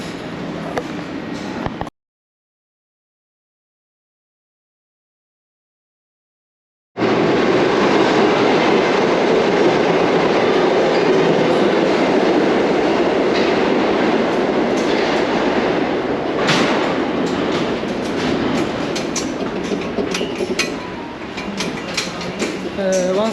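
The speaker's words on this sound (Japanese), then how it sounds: "シティカレッジ駅に着きました。 1番の電車ですね。" A New York City No. 1 line subway train rides toward Harlem: loud, steady rumble and clatter of wheels on track fill the car, interrupted by a few seconds of silence, with sharper rattling and squeals later on.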